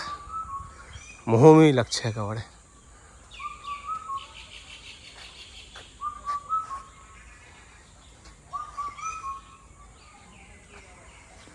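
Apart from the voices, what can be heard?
birds calling and whistling in an eco park forest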